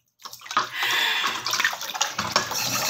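Water runs steadily from a tap onto a wok being washed in a sink, a continuous splashing wash that starts abruptly and holds close and fairly loud for its full length, shifting slightly as the pan moves.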